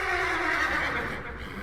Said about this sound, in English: All 3 horses outside, tied to a pair of shriveled saplings by the road, were now neighing and pawing frantically.